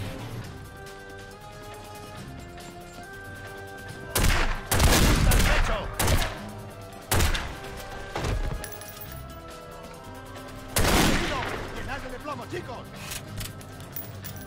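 Gunfire in the El Padrino video game, with several loud bursts of shots separated by pauses over background game music and ambience.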